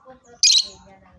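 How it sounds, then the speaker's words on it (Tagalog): A pet bird lets out one sharp, loud squawk-chirp in the middle, set against faint quiet background sounds before and after. "Bakit ang ingay-ingay ng Tweet-Tweet?"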